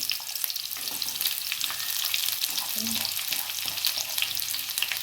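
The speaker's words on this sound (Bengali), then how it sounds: "পেঁয়াজগুলো ভাজছি" Onions fry in oil with bay leaf in a pan for chicken kosha, giving a busy, even sizzle with rapid crackles and light stirring throughout.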